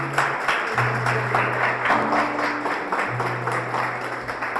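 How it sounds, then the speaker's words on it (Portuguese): A church congregation claps together in a sustained, even round of applause, with sustained organ or keyboard tones underneath and a faint voice in the background. "Aplauda a palavra do Senhor."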